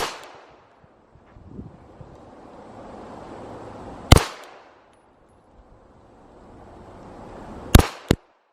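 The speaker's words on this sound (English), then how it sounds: "5 slow shots, 7-yard line. Glock." Glock pistol fired at an indoor-style range from the 7-yard line: two sharp, loud shots about three and a half seconds apart, the second followed by a quick third crack, with hushed room noise between.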